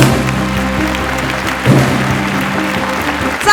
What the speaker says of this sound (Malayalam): സോ നല്ലൊരു കൈയടി